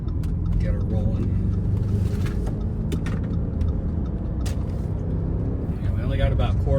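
Audi A6 4.2 Quattro V8 engine at quarter throttle, a steady low droning rumble from inside the car with road noise, while someone talks over it.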